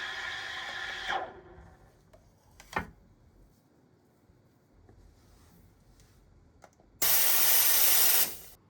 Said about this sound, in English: With strong steam, it is easier to produce glossy, flowing microfoam compared to many entry-level machines.